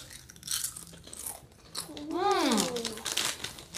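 Crunchy corn Doritos chips being bitten and chewed up close, with crinkly crunches and rustling, while a voice rises and falls over part of the chewing.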